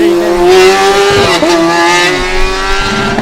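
Electric Formula Student race car at the 2012 Formula Student Germany autocross, a high whining electric motor tone rising and falling as it accelerates and slows past, with tire noise and a commentator talking over it.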